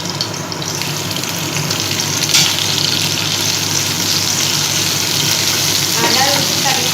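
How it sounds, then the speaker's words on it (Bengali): Ginger and garlic fry in hot oil with a continuous close sizzle and crackle, joined by occasional stirring scrapes, while a voice talks faintly underneath. "এই তেলের মধ্যেই ফার্স্টে আমি দিয়ে দেবো আদাগুলো, তারপর দেব"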